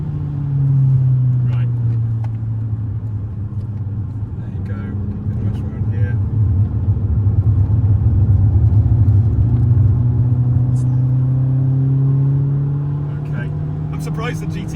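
A car on the Nürburgring GP circuit, fitted with normal road brakes, holds a loud, close engine drone whose pitch sweeps and eases as it brakes and drives on, with voices heard over it.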